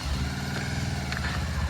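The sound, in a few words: motorbike being ridden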